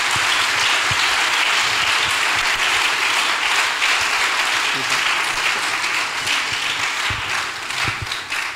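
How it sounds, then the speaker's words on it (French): A church congregation at a worship service gives a loud, sustained round of applause, dense clapping that carries steadily throughout with a few voices mixed in. "Give the Lord a big clap offering."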